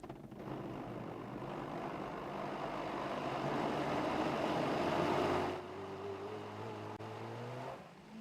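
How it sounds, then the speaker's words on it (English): A kitchen blender whirs through a spiced vegetarian mixture with nutmeg and allspice, a loud steady grinding roar that rises slightly, then drops off and winds down near the end. "Then you pop it in your blender."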